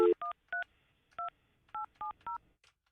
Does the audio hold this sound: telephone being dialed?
yes